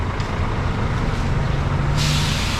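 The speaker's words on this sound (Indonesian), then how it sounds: "Ini bus yang kita akan naik bro." A bus idles in a city-centre terminal in Phnom Penh, Cambodia, amid traffic rumble, then its air brakes release a sudden loud, sustained hiss close to the microphone.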